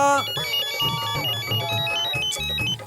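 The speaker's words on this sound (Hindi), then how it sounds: "फोन उठा दया, फोन उठा।" A phone ringtone plays a bright electronic melody over a rhythmic backing, loud and close, with no speech.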